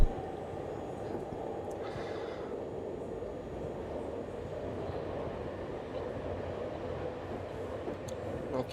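A regional TER train passes with a steady, continuous low rumble and rolling hum, moderately loud and unbroken for several seconds, with no voices over it.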